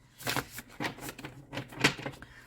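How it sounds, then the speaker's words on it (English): Tarot cards are shuffled close by in a series of quick, crisp riffling bursts with short pauses between them. "So while I'm shuffling here"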